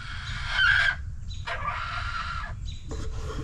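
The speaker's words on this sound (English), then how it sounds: "Chickens can make some of the weirdest noise sometimes" Backyard chickens let out odd squealing, honking calls in three separate bursts, fairly close and clear over low outdoor background noise.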